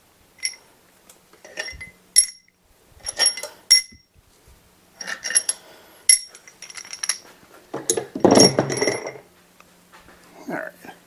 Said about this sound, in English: I'm going to pull all these bolts out